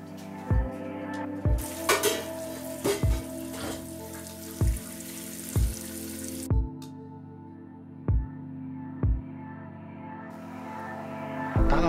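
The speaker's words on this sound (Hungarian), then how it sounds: "Kockázzunk fel szalonnát ízlés szerint. És olajon pirítsuk meg." Diced bacon fries in oil in a pan under a soft, steady sizzle, marked by about ten evenly spaced dull knocks as the pieces are stirred, with no talking.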